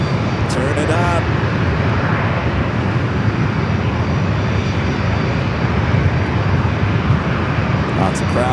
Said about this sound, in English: Next arrival is JetBlue flight 289 coming in from JFK. A321. The sounds are going to get loud.